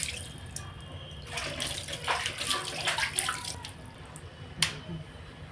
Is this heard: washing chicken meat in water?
yes